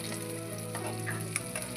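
Steady, close sizzle of food frying in hot oil for a wheat flour and onion recipe, with faint bubbling crackle and small pops throughout, no voices.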